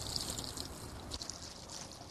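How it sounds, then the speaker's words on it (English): Water is poured over a newly planted bare root shrub, a soft, steady pour with a faint trickle that stays low and continuous throughout. "Pour water over that to help it settle"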